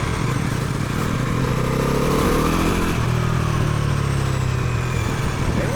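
Bajaj Pulsar NS400Z motorcycle engine after its first service, running steadily up close with a low throbbing drone and a brief rise in revs midway, no voices.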